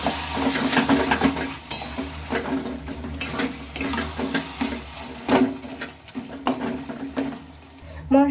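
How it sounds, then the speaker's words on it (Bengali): Boiled mung dal being stirred into spices in a pan for a cabbage and mung dal dish, with steady scraping and soft sizzling throughout and a few louder utensil knocks against the pan. "এবার মুগ ডালটাও ভালোভাবে মশলার সাথে মিশিয়ে নিতে হবে"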